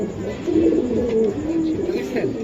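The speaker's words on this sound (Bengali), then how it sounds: "দুইটা কবুতর সুন্দর, একদম অস্থির ভাই, অস্থির কবুতর দেখেন" A pair of big racer pigeons, a hen and a cock, coo in low, repeated throaty phrases close by, with a voice talking over them.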